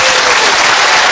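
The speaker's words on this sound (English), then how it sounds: "Give them a huge round of applause." Applause from a TV studio audience at an entertainment talent show, dense and steady at close range throughout, with no talking over it.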